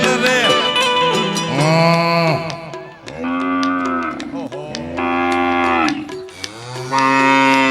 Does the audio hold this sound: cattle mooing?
yes